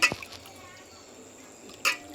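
Rice tipped into a pot of heated water gives a short splash at the start and another brief burst near the end, separated by a low, steady background.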